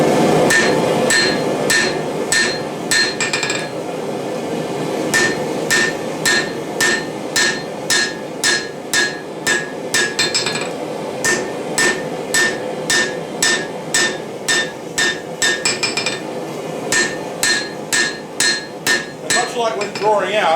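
A hammer strikes a knife blade held on an anvil while forging, ringing out in a long, steady series of sharp metallic blows at a brisk, even rhythm, loud and close, with an occasional brief pause between runs.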